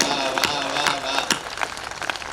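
A live audience at a Hindi comedy and poetry show in Bhilwara breaks into scattered applause, a few sharp claps rising over a dense patter that thins out toward the end, heard from within the crowd.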